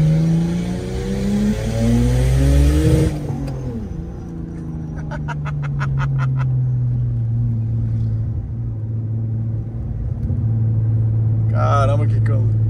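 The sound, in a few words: turbocharged BMW 328 E46 six-cylinder engine revving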